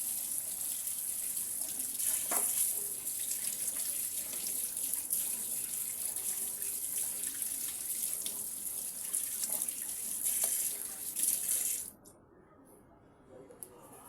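Mutton is rinsed under a running kitchen tap in a steady, continuous gush of water with faint splashes and handling, and the flow cuts off abruptly near the end.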